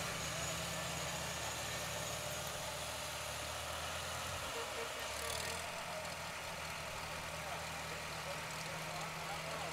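A tractor engine idles steadily at an Independence Day parade in Chelmsford, a constant low rumble with broadband noise, heard under talk.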